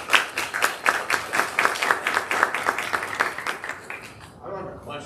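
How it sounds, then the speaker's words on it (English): Applause from the audience at a school board meeting, a steady run of clapping that fades out near the end, with a voice rising as it dies away. "So give them a round of applause."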